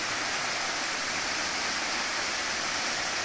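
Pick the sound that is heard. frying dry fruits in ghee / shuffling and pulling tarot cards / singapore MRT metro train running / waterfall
waterfall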